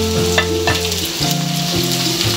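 Cauliflower frying for chicken fried rice, sizzling loudly in a pan with a few quick stirring scrapes over a steady low hum, close and continuous with no talk.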